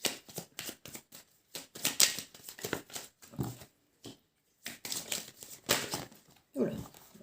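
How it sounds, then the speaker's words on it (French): Oracle cards shuffled and drawn in quick papery bursts of slapping and riffling, close and fairly quiet, with short pauses between handfuls. "Je vais peut-être quand même prendre quelques cartes pour l'amour."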